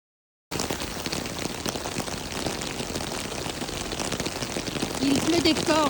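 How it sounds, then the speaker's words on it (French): Dense, steady downpour during a bicycle race, with a constant hiss of rain, growing slightly louder near the end, with a faint voice or tonal sounds briefly audible. "Il pleut des cordes."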